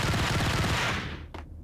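Sustained burst of gunfire in the video game Max Payne, dense and loud for about a second, then fading out with one last sharp crack near the end.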